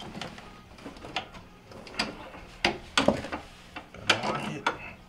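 Plastic and metal clicks, scrapes and knocks come from twisting a locking arm on a refrigerator compressor mount, a few sharp close snaps among softer fumbling handling sounds.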